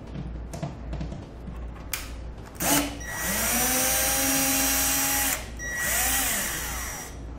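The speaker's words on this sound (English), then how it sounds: "We'll start by removing the four screws." A power drill whirs in several short bursts and then two longer sustained runs as screws are backed out of an old RV roof vent, close and loud with no talking.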